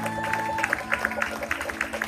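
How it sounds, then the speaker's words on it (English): Audience at a Fijian village cultural performance in Hawaii applauds the Fijian musicians, with clustered claps over a steady crowd murmur and a low sustained hum, moderately loud. "How about a round of applause for our musicians?"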